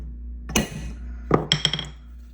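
Metal tapping on brake pads with a big nut to seat them during a front brake pad and rotor change on a 12th-generation Ford F-150: one sharp clink, then a short burst of four quick taps under a steady low hum.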